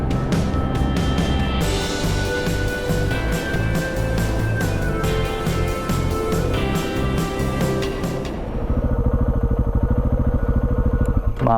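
A KTM 690 motorcycle pulls away close by in the desert, its single-cylinder engine revving loudly through several rising throttle bursts before dropping to a steadier, fainter idle-like chug.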